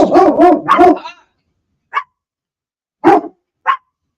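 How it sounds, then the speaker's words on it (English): A dog barks several times in a quick burst, then after a pause gives a few single, sharper barks, loud and close. "Oh, dogs are not happy."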